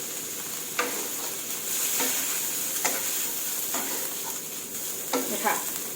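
Bamboo shoots and red chilies being stir-fried with egg, a constant bright sizzle broken by repeated scraping strokes of the spatula across the pan at a steady, unhurried rhythm.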